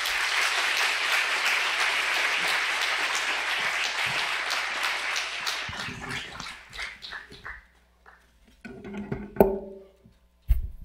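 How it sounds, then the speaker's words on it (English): Warm round of applause from an audience welcoming a speaker, dense at first and then tapering off into scattered claps, with a brief dog whimper or bark near the end. "with a warm round of applause"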